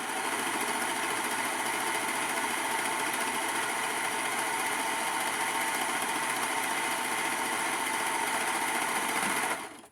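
Serger overlocking fabric edges while sewing a vintage Ken beach set, a steady fast high-pitched mechanical whir running continuously for about ten seconds before stopping abruptly.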